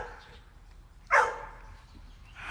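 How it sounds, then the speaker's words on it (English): A neighbor's dog gives one sharp, brief bark at a moderate distance against a quiet, low background. "Hopefully I won't have to shoot this again because of the neighbor's dog barking"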